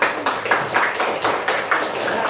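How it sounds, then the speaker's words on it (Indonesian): Schoolchildren in an Indonesian elementary classroom clap together for their classmates during a food-chain science lesson, a short, dense, close burst of hand claps with no talk over it. "Oke, tepuk tangan buat temannya semua."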